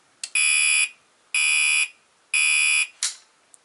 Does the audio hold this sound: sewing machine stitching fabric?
no